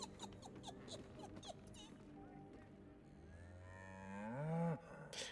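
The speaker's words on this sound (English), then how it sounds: "Why is the sheep making cow noises though?" A sheep in Baldur's Gate 3 lets out a loud, drawn-out cow-like moo near the end, following scattered game sounds and a faint voice.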